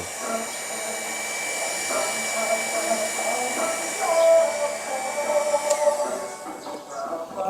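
A hot air blower on its low setting, heating an old sticker to peel it off, gives a steady, even hiss and whoosh for the whole stretch, with slight rises and dips in strength.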